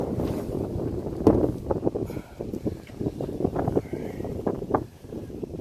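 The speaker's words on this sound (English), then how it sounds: "Okay, so it's windy" Steady wind rushes and buffets the microphone throughout, a low rumbling roar with gusty swells.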